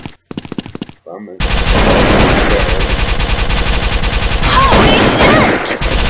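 Rapid automatic gunfire in the video game BloodStrike, from a weapon being tested: a brief broken burst, then a loud, sustained stream of shots with excited shouting over it.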